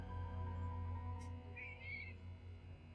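Cat meowing in a puzzle video game, a short faint meow over a quiet humming background, with a brief higher chirp-like sound nearby.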